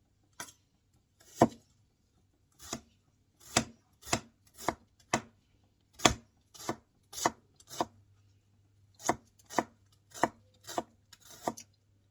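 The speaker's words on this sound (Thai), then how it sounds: "กำลังซอยหอมสีใส่ลาบ" A knife slices shallots on a cutting board for larb, with about twenty crisp, distinct chops in an irregular rhythm, close and clear with no talking.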